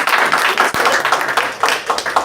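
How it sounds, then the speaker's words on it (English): A small group at a table applauding during a speech at a club event in Trinidad and Tobago, short uneven bursts of close clapping with one sharp louder clap. "round of applause for the table"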